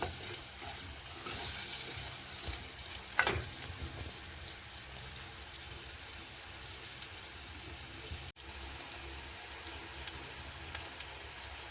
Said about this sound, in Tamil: அதையும் அப்படியே சேர்த்து கிளறி விட்டுட்டு நல்லா டெவலுக்கு வதங்க தேவையில்லை